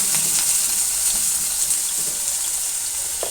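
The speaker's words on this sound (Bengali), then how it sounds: "এই যে ডুম্বো ডুম্বো করে কেটে বেগুনগুলো দিয়ে দিলাম। দিয়ে এই বেগুনটাকেও আমি স্লো আঁচে আস্তে আস্তে ভাজতে থাকবো।" Chunks of eggplant fry slowly over low heat in oil, giving a steady, close hiss of sizzling with a few faint clicks, alone without any talk.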